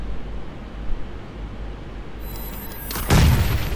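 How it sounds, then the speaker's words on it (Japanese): Gunfire in a futuristic mech battle-royale shooter game, a sharp loud burst near the end after a steady hum of game ambience. "銃声が聞こえた"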